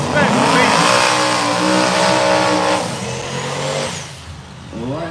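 A Chevy Silverado single cab with a 408 stroker and a Ford Mustang roar at a no-prep drag strip, engines revving loudly and close before fading, with talk over the noise.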